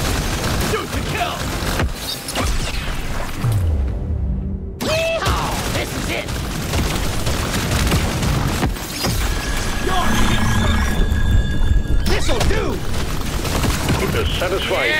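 Plasma weapon gunfire in the video game Deep Rock Galactic Survivor, dense continuous rapid shots and booms with mechanical clatter, loud and unbroken, under game voice lines.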